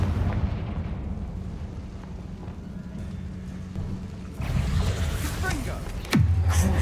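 Confringo fire spell cast in Hogwarts Legacy: a low rumbling game soundscape that swells into a burst, then a sharp, loud impact with a falling whoosh near the end.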